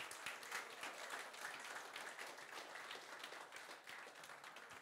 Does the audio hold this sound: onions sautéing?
no